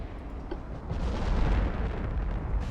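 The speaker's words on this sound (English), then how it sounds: "It's another full salvo." A warship's full gun salvo in Ultimate Admiral: Dreadnoughts, a heavy, rumbling artillery roar with a low booming body that swells and lingers for a couple of seconds, no talk over it.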